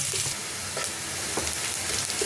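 Onion and garlic fry in a pan until browned, with a steady close hissing sizzle and occasional stirring clinks, alone without talk.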